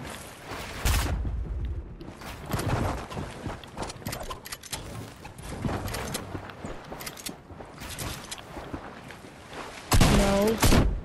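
Rapid enemy gunfire in an arena video game, with dense bursts of shots and clatter that keep coming throughout and grow loudest in a heavy volley near the end.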